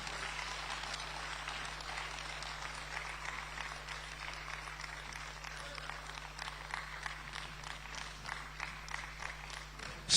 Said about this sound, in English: give our national chairman another rousing round of applause